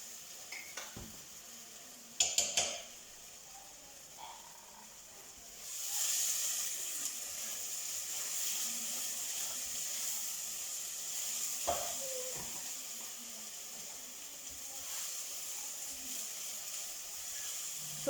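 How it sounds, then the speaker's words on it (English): Ginger and onions sizzle in a hot pan with a steady, moderate hiss, broken early on by a few sharp clinks of a utensil against the pan and some scraping as they are stirred. "So we're gonna mix the ginger and the onions together."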